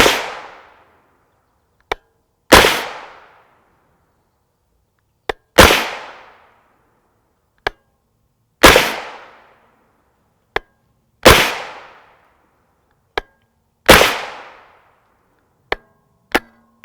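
Loud, sharp 9mm pistol shots from Winchester M1152 ammunition fired during a gel test, five big reports at steady intervals of about three seconds, each ringing out and decaying, with smaller clicks between them.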